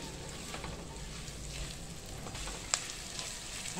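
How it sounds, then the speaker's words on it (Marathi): Masala with chopped green chillies sautéing in a pan makes a soft, steady sizzle, fairly faint, with one sharp tap of a utensil partway through. "आता हा मसाला छानपैकी परतून घ्यायचा आहे आपल्याला."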